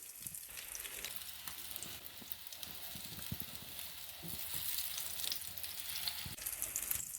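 Potato gola kebabs fry in a pan of oil and get turned gently with a spatula. Close, even sizzling runs throughout, with soft clicks from the spatula and a slight rise in loudness toward the end.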